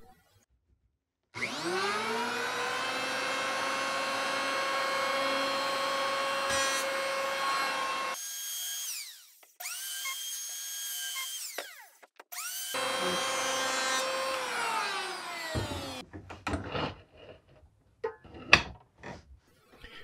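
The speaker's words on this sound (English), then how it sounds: "I'm just going to use the planer to remove the blade marks that the table saw blade created." An electric planer smooths table-saw blade marks off a wooden wine bottle holder board, a loud high motor whine running in two long passes with a short dip between, followed by scattered knocks and clatter of wood being handled.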